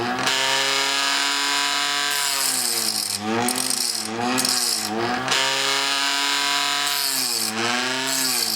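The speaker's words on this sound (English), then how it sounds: "It's a little bit noisy, I'm afraid, but it's a handy way of touching up the tungsten tips." A grinding wheel whines against the tungsten carbide tips of a chop saw blade, a loud, harsh, pitched screech that rises and falls as each tooth is touched up in turn, alone without talk.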